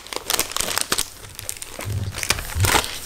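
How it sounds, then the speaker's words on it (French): A plastic sachet crinkles in bursts as an embossing folder is slid back inside it, with close, sharp crackles and rustles spread over a few seconds. "Je vais remettre ça dans son sachet."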